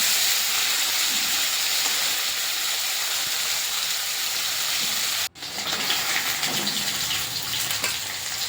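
Rui fish pieces fry in a pan over low to medium flame, a dense, continuous hiss and sizzle broken by a sudden brief cut, then resuming with sputtering bursts.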